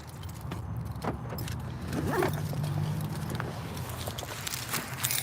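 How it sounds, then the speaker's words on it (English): Keys jangle faintly, with light metallic clinks and rattles scattered over a low ambient hum from an indoor space. "Where's these keys?"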